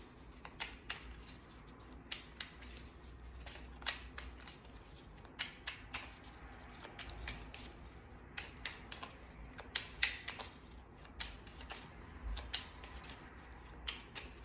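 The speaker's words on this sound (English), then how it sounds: "It's funny how certain cards like shuffle certain ways." Tarot cards being shuffled by hand in a quiet room, a soft, steady stream of flicks and papery riffles with small irregular taps, faint and close, with no talking.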